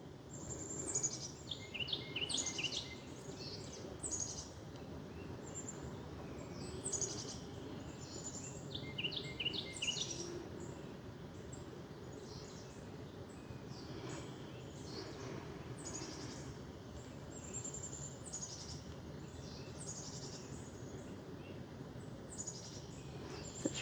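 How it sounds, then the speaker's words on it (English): Birds chirping outside on a warm day in North Carolina, with steady bursts of bright twittering calls through the whole stretch over a faint, quiet background hum. "Such a pretty day with the birds chirping outside."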